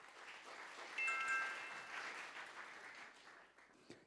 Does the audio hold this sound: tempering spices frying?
no